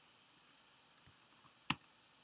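A handful of quiet, sparse keystrokes on a computer keyboard while coding in Python, a few isolated clicks with no talking.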